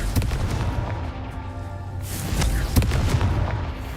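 The Confringo explosion spell in Hogwarts Legacy sounds as a series of booming blasts and crackling bursts over a dense game soundscape, loud and close, with sharp impacts recurring through the clip.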